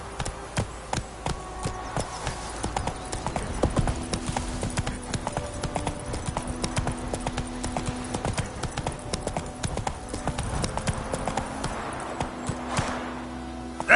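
Roach the horse in Witcher 3 trotting, a steady rhythmic clip-clop of hooves running throughout, close and clear with no talking.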